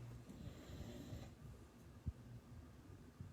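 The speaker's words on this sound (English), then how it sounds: "he's had a busy day, so he's snoring" A dog snores softly indoors in a quiet room, a low rumbling breath that repeats with a brief louder snort partway through, faint under a steady background.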